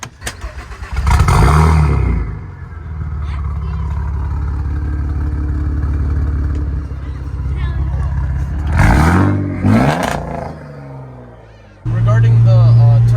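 Tuned Saab turbo car with Stage 2 Plus upgrade, bigger exhaust housing and billet compressor cranks and fires, then settles into a loud, steady idle with revs swelling and dropping. People talk over it.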